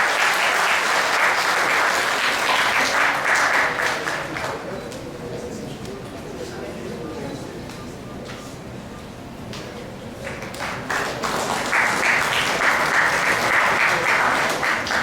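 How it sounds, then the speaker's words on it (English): Audience applause at a science awards programme: loud clapping fades to a softer patter in the middle, then swells back to full strength, with some voices faintly under it. "Nice round of applause, please."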